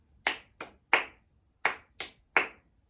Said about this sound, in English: You can also practice rhythm and syllables by clapping out your own name